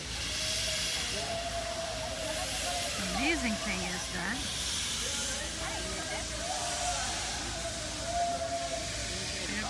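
Steam hisses steadily from a working steam locomotive at the Kyoto Railway Museum, a broad continuous wash under a man's speech, with a couple of faint whistle-like tones in the middle.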